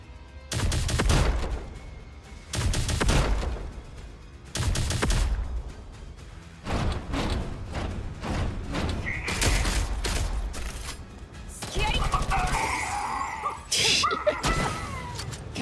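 Grenade launchers fire in Girls' Frontline 2 combat, heavy thumping shots in separate bursts with a pause between each, then clustered impacts and mechanical clatter later on.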